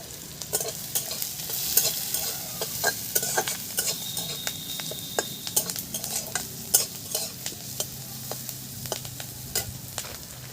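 Spices and sesame seeds sizzling in a pan, a steady light fry with frequent sharp stirring clicks and scrapes, close and alone without talk.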